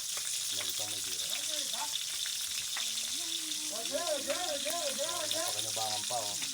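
Eggplant fries in a pan with a steady, bright sizzle running throughout, under a voice talking over the cooking.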